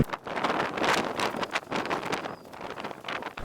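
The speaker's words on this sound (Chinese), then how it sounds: "然后还刮着风，还挺大的。" Strong gusting wind roars across the microphone on the shore of a high-altitude plateau lake in cold, snowy conditions, loud and continuous with surging bursts throughout.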